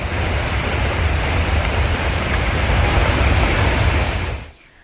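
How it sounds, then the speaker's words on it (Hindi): Heavy rain driven by strong wind in Kanpur, Uttar Pradesh, a steady loud broadband roar holding for about four and a half seconds before cutting off abruptly. "तेज हवाएं चल रही हैं, बारिश हो रही है"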